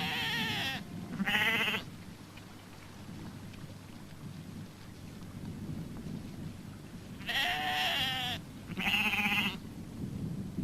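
Sheep bleat in a flock of rams and selected ewes confined in a large paddock, with two pairs of loud, close bleats at the start and near the end over a constant rushing, rain-like background.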